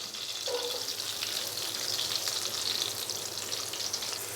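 Finely chopped onion fries in melted butter for an omelette, a dense, steady sizzle close by that runs without pause, with light crackling and no speech.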